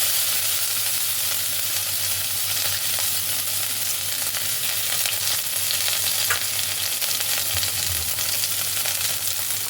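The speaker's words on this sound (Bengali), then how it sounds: "আদাটাকে ভালোভাবে তেলে একটু ভেজে নেব" Grated ginger fries in hot oil with tempering spices for a fish-head and bottle gourd curry, giving a steady, dense sizzle that holds evenly throughout, with a faint stir or scrape near the end and no talk.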